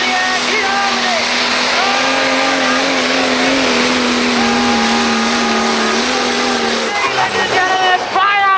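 Tractor pulling contest at night at Great Eccleston, a pulling tractor's engine roaring steadily at full throttle, loud and sustained with a strong droning tone, shifting pitch near the end.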